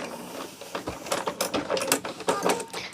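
A sewing machine stitches quilt binding toward a corner in a quick mechanical whirr with rhythmic clattering pulses, close and fairly quiet.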